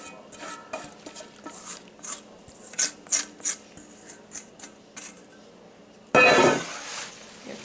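Strawberries and rhubarb being stirred together in a bowl, soft wet clinks and scrapes of a utensil in an uneven rhythm, ending in a louder burst of rustling noise.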